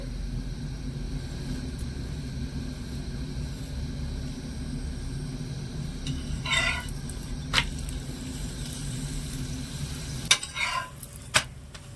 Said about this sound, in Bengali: এবার আমি রুটিটা দিয়ে দিচ্ছি আর হালকা করে একটু সেকে নেব দিয়ে দিচ্ছি সামান্য একটু তেল